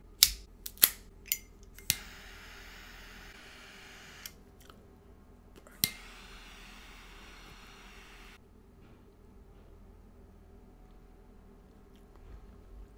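Asylum 13 Connecticut cigar being cut, a few sharp close clicks and snips at the start, then one more snap, followed by quiet room hiss.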